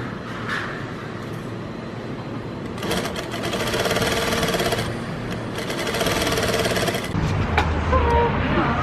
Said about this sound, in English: There's my sewing machine.